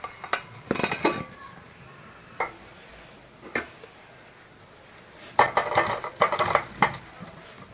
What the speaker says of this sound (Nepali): पानी तर्किसक्यो, यसलाई भाँडामा खनाउनु।